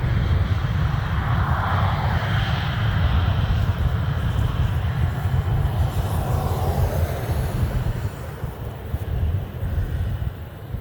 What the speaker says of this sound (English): That turquoise plane took off while the train was approaching, but this one's getting ready to go.